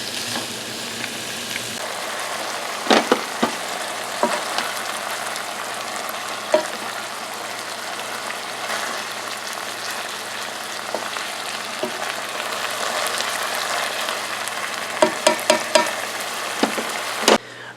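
Ground beef for chili browns in a pan with a steady, close sizzle, broken by occasional sharp clicks and scrapes of stirring.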